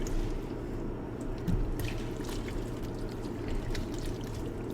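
A spoon stirs hot pot broth with porcini in a pot on the stovetop, a soft, close liquid sloshing and swirling with a few faint clinks, and no talking.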